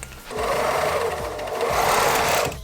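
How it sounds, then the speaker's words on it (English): An overlocker runs fast and steady on a dress, with a close, busy mechanical whir and a few rhythmic thumps underneath, going for about two seconds with no talk. "Sleeves are in. All I have to do is overlock."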